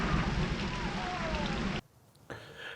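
Steady monsoon-like storm rain hisses loudly, then cuts off abruptly into near quiet before a softer wash of sound returns.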